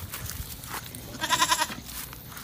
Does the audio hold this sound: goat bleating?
yes